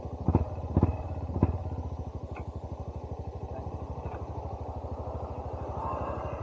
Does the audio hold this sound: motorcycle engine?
yes